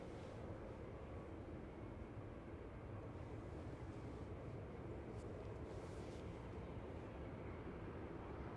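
Boeing 747 departing Anchorage airport and banking left, a continuous distant broadband jet roar holding steady throughout, with no talk.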